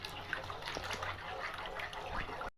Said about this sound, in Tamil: பால் போட்டாச்சு